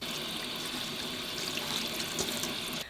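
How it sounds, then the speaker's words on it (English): Sprouted lentils being rinsed under a running kitchen tap, a steady close hiss of flowing water splashing into a sink for a few seconds and cutting off at the end. "we're gonna need to rinse out our sprouted lentils"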